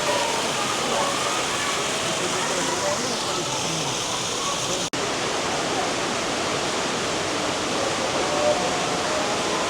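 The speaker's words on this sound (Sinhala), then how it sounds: "මෙතනින් ලස්සනට දිය පාරක් ගලාගෙන එනවා." Water rushes between rocks in Seven Ladders Canyon, Romania, a loud, continuous broadband roar holding steady throughout with a brief dropout near the middle.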